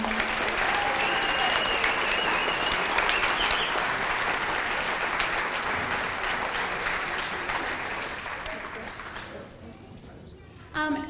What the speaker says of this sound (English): All right, let's give them all a round of applause.